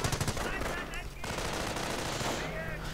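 Rapid .30 caliber machine gun bursts rattle through a Company of Heroes battle, loud and close, with dense overlapping shots and a steady crackling rhythm.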